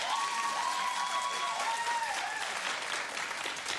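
A talk show studio audience applauds in a continuous, even wash of clapping, with some light cheering and voices mixed in.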